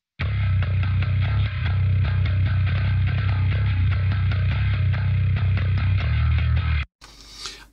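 A bass submix run through preamp, EQ and compression gives a loud, dense low-end groove with steady deep bass notes and busy percussive hits. It plays continuously for about seven seconds, then cuts off with a brief burst of brighter noise.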